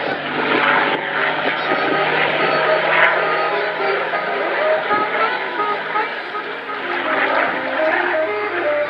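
A 1944 P-51D Mustang fighter flies at a Southport air show with a loud, steady piston-engine drone that holds throughout, while a commentator's voice runs over it.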